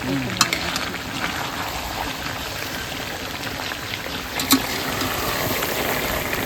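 Potatoes fry in a pan with a steady, close sizzle that runs throughout, broken by a couple of short clinks of a utensil.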